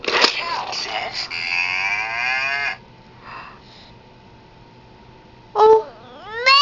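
Electronic toy plays a long, drawn-out cow moo that dies away after nearly three seconds, then a second, shorter moo starts near the end; the room is otherwise quiet.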